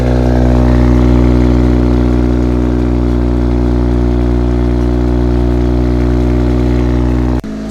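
A straight-piped Toyota Soarer with a 1JZ engine idles loud and steady on a cold start, a deep droning exhaust note held throughout before cutting off abruptly at the end.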